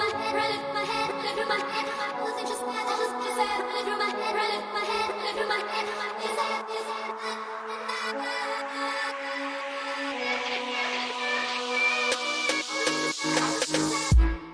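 An EDM build-up made in FL Studio, with a sustained synth pad under a rising sweep that swells steadily. A quickening snare pattern drives toward the end before it cuts off abruptly.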